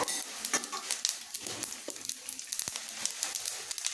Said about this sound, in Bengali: এবার কড়াইতে দিয়ে দিচ্ছি সামান্য পরিমাণ সাদা তেল এবার এখানে দিয়ে দিচ্ছি হাফ চা চামচের গোটা জিরে ফোড়ন হিসাবে